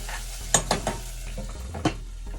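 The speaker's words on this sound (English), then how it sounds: "What we're gonna do now is stir it. You don't want it to burn." Hot sauce ingredients sautéing in a pan as they are stirred, a low constant sizzle under a few distinct scraping and knocking strokes of a utensil against the pan, close and moderately loud.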